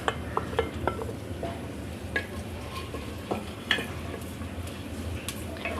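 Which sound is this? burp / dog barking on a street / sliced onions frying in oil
sliced onions frying in oil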